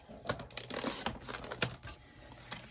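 Card stock being trimmed to size for a handmade easel gift card holder, a quiet series of irregular clicks and scrapes from the trimmer blade, close and soft.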